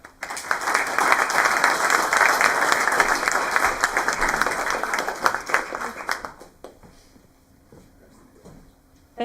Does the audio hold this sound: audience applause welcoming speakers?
yes